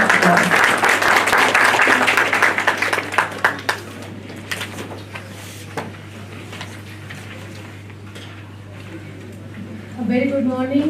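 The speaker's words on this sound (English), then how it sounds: "Please welcome Madam with a round of applause." Audience applause at a national healthcare management seminar, loud and dense at first, then thinning into scattered claps over a steady hum, with a voice starting near the end.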